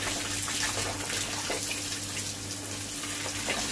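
Hot water from a tap runs steadily while makeup is washed off, a continuous close hiss and splash that stays at an even level throughout, with a faint low hum underneath.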